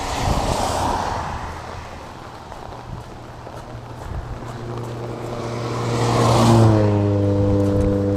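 Cars passing on a roadside passing lane beside a hiker walking the Appalachian Trail on a drizzly day, a steady engine and tyre rush that swells as a vehicle nears and then recedes, heard with no talk.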